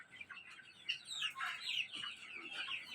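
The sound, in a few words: tiger breed chickens and rooster clucking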